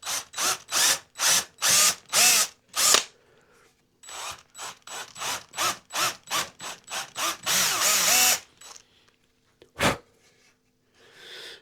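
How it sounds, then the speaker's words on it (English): A power drill with a sharp Famag bit runs in a series of short, loud bursts while fitting a guitar neck, pausing briefly, then another run of rhythmic bursts before a final single burst. "I've got a nice sharp Famag drill bit"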